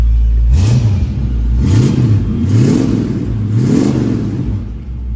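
A 1967 Ford Mustang engine revs in repeated rising blips, four surges over a steady loud idle rumble, close to the listener with no talking.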